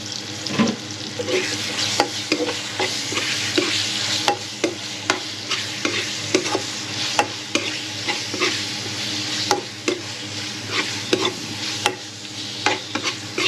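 Liver sautéed in a pan, continuous frying sizzle broken by frequent sharp scrapes and taps of a spatula stirring at an irregular, brisk pace, close and fairly loud.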